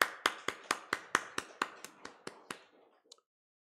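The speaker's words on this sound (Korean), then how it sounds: "박수 한번 주시겠습니다." About a dozen crisp, evenly spaced claps from a church congregation for the Sunday service accompanist, each sharp and distinct, gradually fading in strength before stopping, with one last faint clap after a pause.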